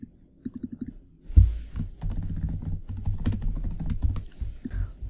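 Keystrokes tap on a computer keyboard, a few light spaced clicks first, then a denser, steadier run of quicker typing that carries on to the end, close and fairly quiet.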